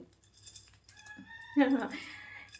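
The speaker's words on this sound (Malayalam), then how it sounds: "കോഴി കരയുന്നുണ്ട് അടുത്ത്" A rooster crows close by, a single call with a rising, drawn-out tone near the end of the moment, following some quiet background murmur.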